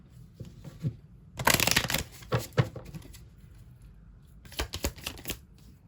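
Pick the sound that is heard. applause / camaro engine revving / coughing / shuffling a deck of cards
shuffling a deck of cards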